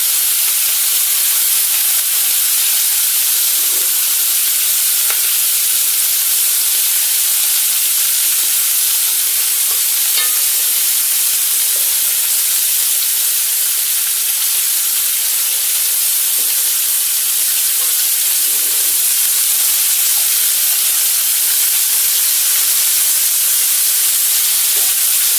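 Continuous loud sizzling and hissing of meatballs searing in a hot pan, with occasional faint pops and crackles, no talking.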